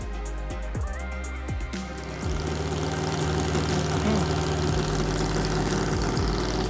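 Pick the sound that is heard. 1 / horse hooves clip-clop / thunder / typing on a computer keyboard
1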